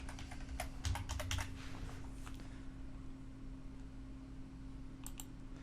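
Quick bursts of keystrokes on a computer keyboard, a cluster of clicks early on followed by a pause and a couple of final taps, faint over a low background hum.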